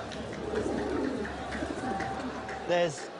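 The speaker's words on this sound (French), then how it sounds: "Voici un pigeon voyageur." A homing pigeon coos in a brief, soft burst near the end, rising over a steady background hum while a voice narrates throughout.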